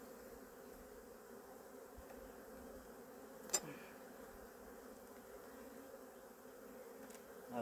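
Honey bees hum steadily inside a hive's bottom box during a first spring inspection, a soft, continuous droning buzz with one brief sharp knock midway.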